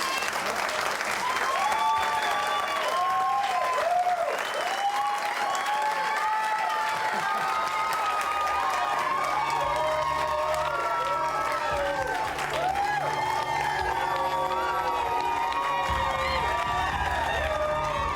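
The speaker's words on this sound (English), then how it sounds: "The fake, overenthusiastic applause is disturbing to Ryan." A large congregation applauds and cheers with loud, sustained clapping and scattered whoops that continue without a break throughout.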